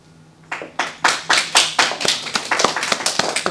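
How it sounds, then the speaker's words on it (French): Hand clapping for a resident at a quiz game in a seniors' residence, a small group building quickly into a run of steady, close claps that soften slightly toward the end. "Des applaudissements."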